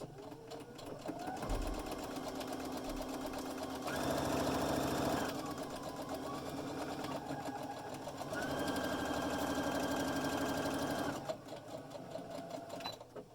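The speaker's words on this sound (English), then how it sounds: "I'm only sewing where the two pieces are meeting." Sewing machine running a straight stitch along the joined pieces of a DIY fabric face mask, its rapid mechanical whir going in two long bursts with short pauses, close and steady.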